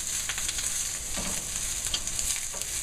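Guisado sautés in a pan with a steady, close sizzle and frying crackle, broken by faint scrapes of stirring, and no voices.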